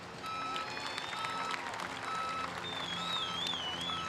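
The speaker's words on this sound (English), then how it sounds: "I think all the competitors deserve a big round of applause." Crowd applause at a surfing competition's trophy ceremony at Narrabeen, a steady broadband clatter of clapping with some cheering tones layered over it, sustained throughout.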